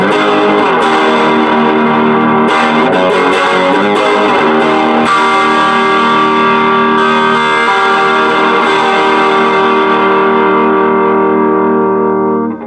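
Shea Double Cut electric guitar played on its bridge pickup through a Dr. Z Monza amp with a little gain, ringing out loud and sustained with slightly driven chords and no voices.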